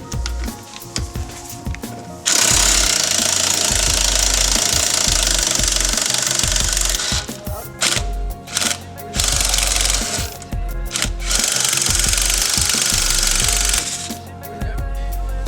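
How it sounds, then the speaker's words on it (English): Removing the lower damper bolt on a Mazda MX-5 during a coilover fit, heard as loud sustained bursts of a hammering power tool, likely an impact wrench, with brief pauses between runs and no talk. "we're just going to undo the main big bolt that holds the bottom bush of the damper here"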